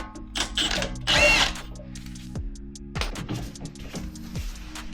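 A 19mm socket tightens the tie rod on a 2011–2013 Dodge Durango AWD, with close, whirring tool bursts and clicking ratchet-like pulses at irregular intervals.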